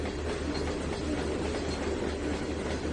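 A train rolls steadily along the track in the Trainz 2019 railroad simulator, a continuous loud rumble with faint clickety-clack and wheel noise, no voices.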